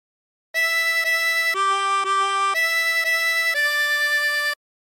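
A phrase of Yellow Rose of Texas on a 24-hole tremolo harmonica: five held, buzzy reed tones stepping up and down in pitch, played continuously and close with no voices, ending abruptly.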